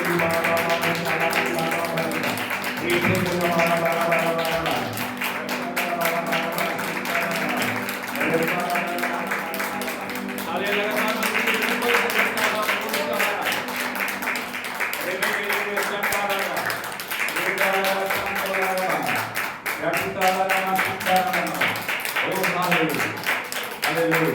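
A Hindi-speaking church congregation claps along rhythmically during a worship song, the steady hand claps running under loud singing and music throughout.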